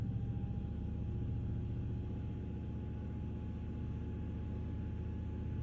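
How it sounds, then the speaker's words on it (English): A 2016 Ford F250 with a 6.2L engine, misfiring, idling rough and running rich, held under brake torque, gives a loud, steady low rumble that drones on without a break and with no voices. "I want the brake torque up with this thing."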